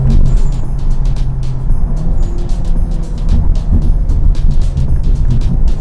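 An Audi A5 S-Line convertible takes a corner with loud, steady road and engine noise, punctuated by rapid regular clicking ticks.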